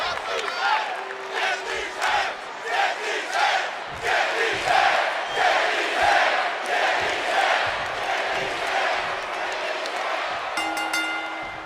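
Video game arena crowd in WWE 2K25 reacting to a wrestler's entrance, a loud sustained roar with rhythmic chanting and cheering swells throughout, ending in a short electronic tone.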